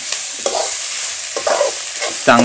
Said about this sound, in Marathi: तर पहिल्यांदा आदित्य कांदो परतून घेता आणि नंतर इकडे बाजू खोबरा असा, या खोबरा आपण परतून चांगला